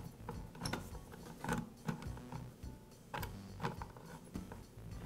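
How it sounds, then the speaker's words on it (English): The nuts on the brake cover of an Echo chainsaw are turned loose with a hand tool, giving close, repeated ratcheting clicks and metallic mechanism rattles in irregular bursts, with no talk. "I'll loosen the nuts and also loosen the chain tension"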